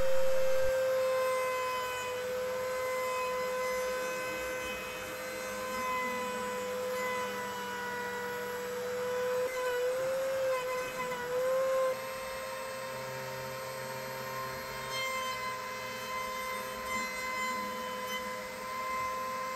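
A FoxAlien CNC router runs a slow finishing pass on metal. Its spindle gives a steady, close, high-pitched whine with a constant grinding and cutting undertone that changes slightly partway through, and no one speaks.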